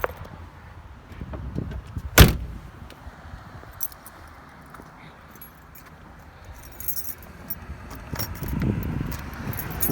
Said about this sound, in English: One of these keys. I got too many keys on here.